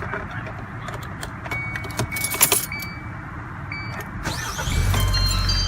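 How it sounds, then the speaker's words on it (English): Keys jangle near a 2014 Kia Soul with a 2.0L GDI engine, then the small engine cranks and catches after a jump start, settling into a steady low idle. "Car starts."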